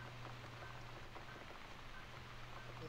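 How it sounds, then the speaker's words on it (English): Steady rain falls in the video game The Cat Lady: a soft, continuous patter over a low, constant hum, with no voices. "Looks like we got the rain back."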